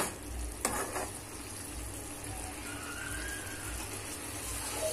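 Tomatoes fry in a pan for egg curry with a steady, close sizzle, broken early by one sharp clink of a utensil against the pan.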